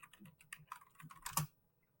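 Quick clicks of a computer keyboard as a password is typed, a short close run of keystrokes lasting about a second and a half, quiet and alone.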